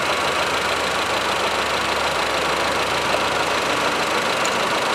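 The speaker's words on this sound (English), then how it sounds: "come back with the engine run again, and earlier I killed number 1 and now number 2" A Honda Civic engine idles with the ignition coil connector on cylinder 2 pulled, running on a misfire. The drone is dense, continuous and close, steady in loudness for the whole stretch, with no voices.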